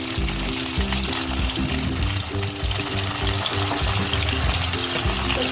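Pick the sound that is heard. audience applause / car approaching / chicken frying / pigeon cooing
chicken frying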